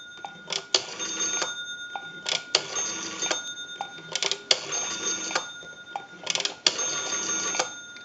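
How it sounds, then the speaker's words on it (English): Rotary dial on a candlestick telephone spinning back after each turn, a run of four rapid clicking bursts separated by short pauses, close and moderately loud. "We have a nice smooth return on our rotary dial."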